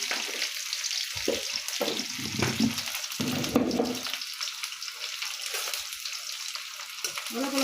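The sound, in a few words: onion frying with black cumin in a pan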